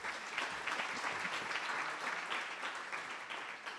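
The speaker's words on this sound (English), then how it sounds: "So give yourselves a round of applause again." Dense, steady applause from a large audience at a celebration event, many hands clapping together at an even level throughout with no gaps.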